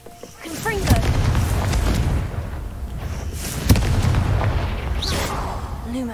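Confringo fire spell blasts from the Hogwarts Legacy video game: two sharp booming bursts, one near the start and another midway, over a continuous rumbling game soundscape with a voice speaking.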